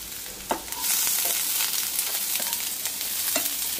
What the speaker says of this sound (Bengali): একটু জাস্ট ভাজা ভাজা ফ্রাই হবে